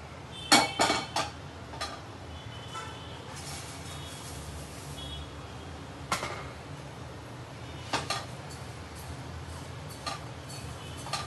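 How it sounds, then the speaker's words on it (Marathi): Poha is stirred while roasting in ghee in a hot pan, giving scattered metallic scrapes and knocks of a spoon against the pan. The knocks are clustered early and sparse later, over a soft, steady background. "आपला पॅन गरम झालेला आहे, थोडंसं तूप टाकून भाजून घेऊया पोहे।"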